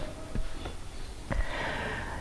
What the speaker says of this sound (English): why am I coughing now?